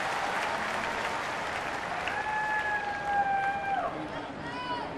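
A sellout-sized baseball crowd at a Pittsburgh Pirates home game against San Francisco cheers and claps in a broad, steady roar, with a whistle-like tone rising over it midway.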